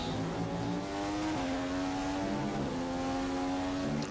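A Manor Formula 1 car driven by Will Stevens on its final lap in F1 2015 gives a loud, continuous high-pitched engine whine that climbs through the gears, dropping at each upshift and rising again.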